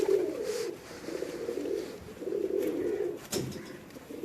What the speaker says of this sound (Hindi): ये वाकई सही सियालकोटी कबूतर इनके पास हैं जी।